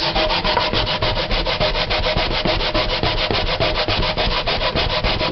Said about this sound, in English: So this is my Jamaican grater.